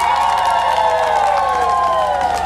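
A large outdoor crowd at a public gas-cylinder handout event in Njombe applauds and cheers loudly and continuously, a dense roar of clapping with shouts and whoops throughout.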